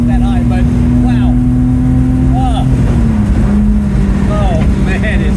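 Datsun 280Z engine revving during a road test, a loud steady engine drone inside the car that holds a pitch and then drops as revs fall, with people talking over it.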